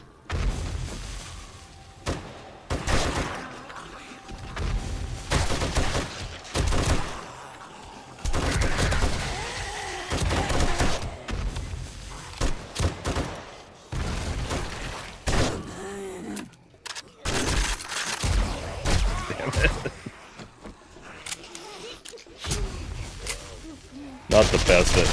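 Rapid bursts of belt-gun fire in a survival video game, loud and close, coming in repeated volleys separated by short pauses, with someone talking briefly between the shots.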